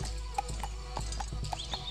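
A white horse gallops in the distance with irregular, moderately faint hoof clops over a low steady rumble. No voices are heard.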